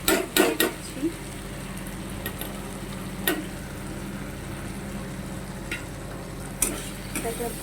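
Paneer chilli with tomato sauce being stirred in a pan, a spoon scraping and clinking against the metal in a few sharp bursts over a low, steady sizzle, close by and with no talk.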